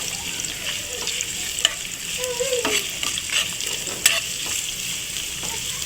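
Chopped onions frying in oil in a pan for a Ramadan chickpea dish, a steady close sizzle broken by a few sharp scrapes and clacks of a stirring spoon, with no talking.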